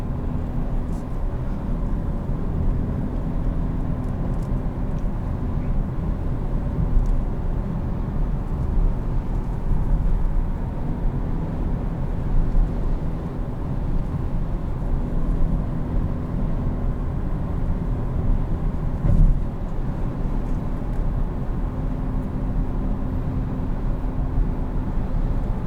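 A 2020 Volkswagen Arteon R-Line is driven along a back road, heard from inside the cabin as a steady low engine and road drone with tire rumble, even and continuous with no talk.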